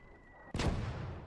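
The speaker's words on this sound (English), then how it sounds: "Sounds like they got a mortar off towards the center somewhere." Mortar fire in the World War II game Gates of Hell: Ostfront, a single heavy blast booming out with a long rumbling tail, fairly faint and distant.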